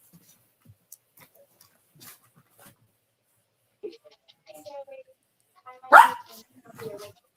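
Several pet dogs bark and yip in a home setting, a few sharp barks clustering midway with quieter yelps around them, while someone talks softly nearby.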